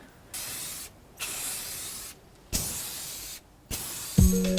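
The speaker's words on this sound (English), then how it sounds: "you're probably gonna want to spray you on some kind of clear protective sealer" A clear protective sealer sprays from an aerosol can onto a hydro-dipped craft project in four separate hissing bursts of about a second each, close and steady, with brief gaps between them and a small clatter at the end.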